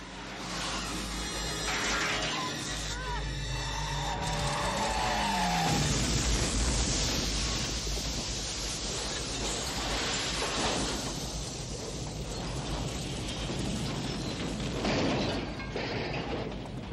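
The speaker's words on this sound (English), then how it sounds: "High-speed cameras were used to shoot Pike's truck in slow motion as it was absorbed in a 150-foot fireball" Film scene from the 1985 action film Invasion U.S.A. in which a truck is engulfed in a 150-foot fireball: a rising whine gives way to a long, loud, roaring rush of blast noise.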